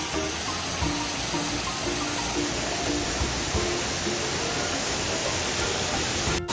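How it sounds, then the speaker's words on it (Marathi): Nhavakond waterfall in the Konkan region roars as a dense, unbroken wash of falling water, loud and close, steady for the whole stretch with no voices. "तर मित्रांनो, हा आहे न्हावाकोंडा वॉटरफॉल"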